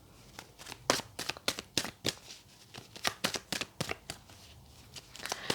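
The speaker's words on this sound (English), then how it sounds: "let's get your tarot cards out" A deck of tarot cards is shuffled close up, giving rapid, crisp riffling bursts in quick succession, with brief pauses between runs and no voices.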